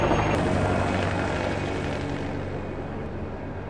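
Helicopter engine and rotor roar, loud and steady as a broad wash of noise that fades slightly as it continues, heard alone with no talking.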